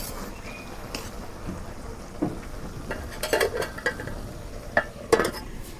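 Chinton bhaji, Bengali-style vegetables, stir-frying in a pan over a low sizzle, with scattered scraping and clinking spoon strokes that grow busier toward the end, close and without voices.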